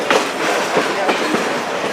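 An excursion train on the Great Smoky Mountains Railroad, pushed by an FA diesel locomotive, rumbles along with steady loud rolling noise and repeated clickety-clack wheel beats over the rail joints, heard from on board.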